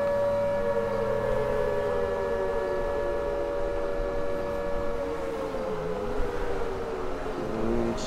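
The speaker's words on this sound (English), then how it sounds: "If I could hear. I know, all these sirens" Sirens wail continuously in the game GTA V, rising and falling in pitch over a steady background rumble, loud and sustained without talk.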